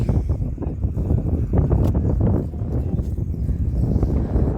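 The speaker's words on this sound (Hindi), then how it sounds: "धीरे धीरे से घोड़ी को लेके जा रहे।" Hooves of a Kutch mare led slowly along a dirt track at a village horse race gathering, a loose, soft, uneven clip-clop of steps close by against wind and outdoor background noise.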